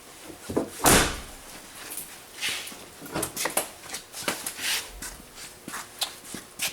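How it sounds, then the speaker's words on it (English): Large side-swinging baggage doors on a 2015 Thor Challenger 37 LX motor home swing and bang shut, one loud slam followed by a series of lighter thuds, latch clicks and rattles nearby. "And those are side swinging baggage doors."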